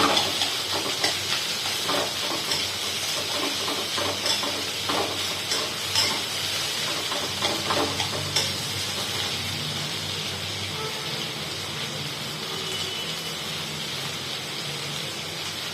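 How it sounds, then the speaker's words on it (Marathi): Thinly sliced onions sauté in a hot pan with a steady, bright sizzle and hiss, broken by occasional stirring scrapes, heard close and continuous throughout. "आता हे कांदे छान असे लाल मोठं परतवून घ्यायचे आपल्याला"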